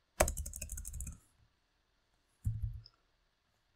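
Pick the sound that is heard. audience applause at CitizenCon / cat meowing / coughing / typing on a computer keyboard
typing on a computer keyboard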